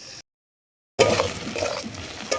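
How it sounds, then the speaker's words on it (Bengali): Onion frying in a pan for a chicken curry, with a steady close sizzle and faint stirring scrapes that start abruptly after a short silent gap. "পেঁয়াজটা আমি লাল লাল করে ভেজে নিচ্ছি"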